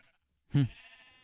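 A single sheep bleats once in Minecraft, a short, clear, close bleat with a soft tail, otherwise quiet.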